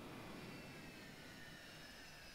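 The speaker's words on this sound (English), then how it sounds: "Alright, I'm going to power her down." Tupolev Tu-154 jet engines powering down while parked on grass in Microsoft Flight Simulator 2020: a steady, quiet turbine whine and rushing roar with a faint high tone, slowly settling lower, with no talking.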